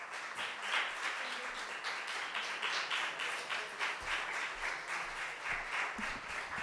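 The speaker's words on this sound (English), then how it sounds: "Once again, an applause for Tanya Torres." An audience applauds at an arts event in the Bronx, a dense, even wash of clapping that holds steady and fairly distant throughout without talk.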